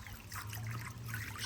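Water trickles and drips from freshly washed Bernedoodle dog fur as it is lifted out of the wash, a faint, steady close dribble with no talking.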